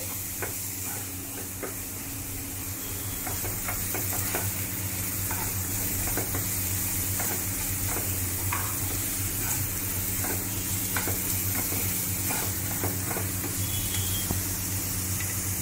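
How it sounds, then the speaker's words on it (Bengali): Onions sizzle steadily in a hot pan, with a continuous crackling hiss and intermittent scraping stirs over a low background hum. "একদমই লাল করে ভাজার কোনো দরকার নেই, জাস্ট কাঁচা ভাবটা একটু চলে গেলেই"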